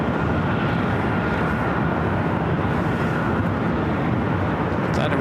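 An Aer Lingus Airbus A330 arriving at LAX, its engines a loud, steady broadband roar that holds without a break throughout.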